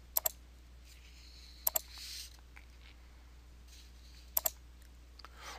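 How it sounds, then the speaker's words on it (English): Computer mouse clicking in Excel, quiet paired double clicks repeated a few times at a steady pace in a near-silent room, no talking. "Now click on OK to apply the formatting."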